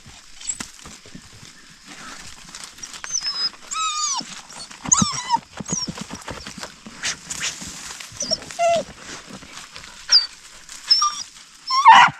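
A dog yips and whimpers in short bursts outdoors at night, close by, against a steady hiss of insects and night noise, with a few sharper cries toward the end.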